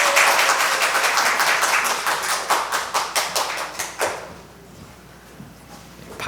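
A church congregation claps to welcome the pastor. The applause is strong at first, thins into scattered individual claps and fades out after about four seconds, leaving a quiet room.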